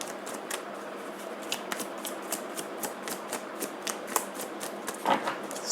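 Tarot cards are shuffled and drawn by hand, giving a run of quick, light flicks and snaps at a steady rhythm, close and fairly quiet, with a slightly louder flurry near the end.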